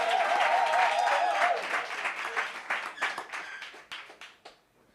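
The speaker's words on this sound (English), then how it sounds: "Guys, let's give our amazing MC a round of applause." A workshop audience claps for the MC, a full burst of applause that carries on strongly for a moment and then thins into scattered, fading claps before dying out.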